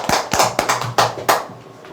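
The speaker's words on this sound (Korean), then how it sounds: "박수 한번 치시죠." Audience members at a sales-training lecture clap in a short burst of uneven, close-by applause, individual claps distinct rather than a dense roar, tapering off after about a second and a half.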